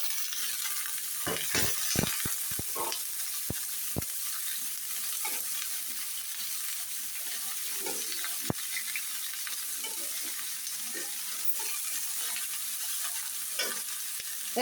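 Chopped vegetables stir-fried in a pan, a steady sizzle with a burst of sharp spatula clacks near the start and occasional scrapes after, close and alone with no voices.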